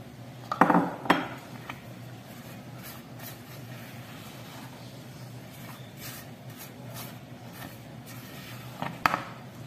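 Flour is mixed by hand into cake batter in a bowl. Quiet, steady scraping runs throughout, with a few sharper clinks of the utensil against the bowl near the start and again near the end. No one speaks.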